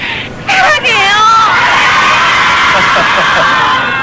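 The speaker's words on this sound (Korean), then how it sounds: "저희 여학생들의 환호성을 보세요." Schoolgirls at a performance erupt in high, sustained screams and cheers, a loud crowd of shrill voices swelling after a brief lull and holding steady to the end.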